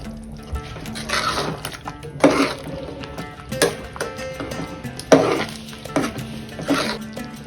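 Vegetable kurma being stirred in a pan with garam masala and kasuri methi, a spoon scraping and clinking against the metal in repeated strokes over a soft, steady sizzle, close and fairly loud.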